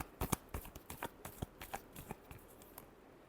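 Tarot cards shuffled by hand in a quick run of crisp riffling flicks and soft slaps, close and faint.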